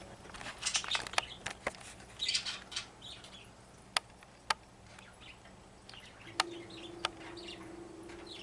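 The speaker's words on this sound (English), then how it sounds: "Hey, look at what my birds are doing." Pet birds chirping and clucking indoors, scattered short calls and sharp tweets, moderately close but fairly quiet, with a faint hum in the background.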